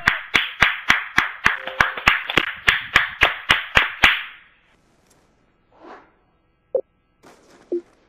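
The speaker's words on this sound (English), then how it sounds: "Clap it up!" A quick run of sharp, evenly spaced claps, about a dozen, loud and close, stops abruptly and gives way to near silence with a few faint stray noises.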